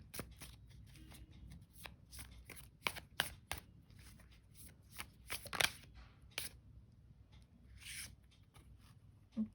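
Tarot cards are shuffled by hand in a quiet room, a series of soft crisp riffles and flicks at irregular intervals, close and fairly faint, with no talking.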